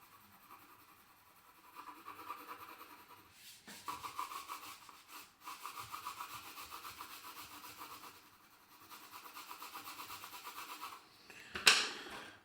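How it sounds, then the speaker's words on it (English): Hand colouring-in of drawing surfaces makes quiet scratchy rubbing strokes in irregular bursts, close and faint, with a sharper scrape near the end. "I'm just really quickly colouring these in."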